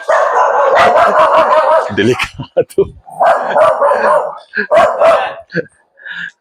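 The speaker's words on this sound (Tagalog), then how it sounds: "Kinukuyog na tayo ng aso doon" Dogs barking loudly and repeatedly nearby in short bursts, with a person speaking briefly between the barks.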